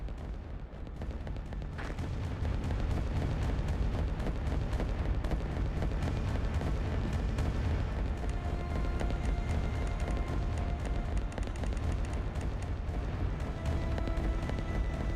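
Continuous rumbling barrage of bombing explosions from the Roblox war game Rise of Nations, dense and loud throughout with no gaps, booms overlapping into a steady roar.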